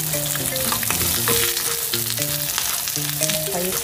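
Egg omelette frying in a pan, giving a steady, close sizzle and crackle that runs throughout, with a faint tune playing underneath.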